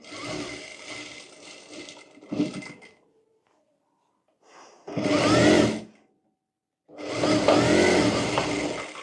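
A sewing machine stitches two pleats into a dhoti in three separate loud bursts of running, each broken off by a short pause with faint handling noise.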